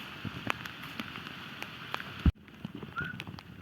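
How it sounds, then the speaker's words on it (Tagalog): Steady heavy rain in a forest patters in a dense, continuous hiss with scattered heavier drops and a few sharp knocks, a brief loud thump near the middle. "binabayo na kami ng malakas na ulan dito sa gubat sa gitna"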